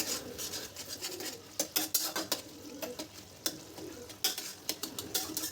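Potato, pumpkin and spinach curry with green chillies bubbling in a pan, with bursts of spoon scraping and clinking against the metal, close and fairly loud, no talking.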